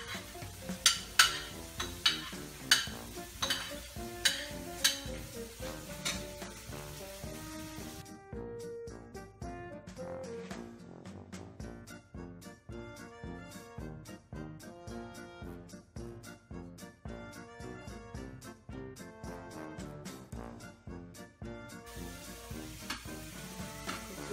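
Spinach and mushrooms sizzle steadily in a pan while cooking for shrimp lasagna, with rhythmic clicks and scrapes of stirring throughout and no talk.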